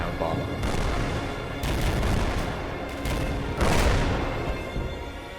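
Artillery shelling in the Combat Mission war game rolls on without a break near a desert compound, with dense overlapping booms and blasts swelling into louder impacts.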